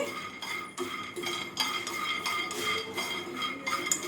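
Peanuts dry roasting in a pan, with a continuous dry rattling and scraping as they are stirred and tossed, close and moderately loud, with clinks of a utensil against the metal and no talking.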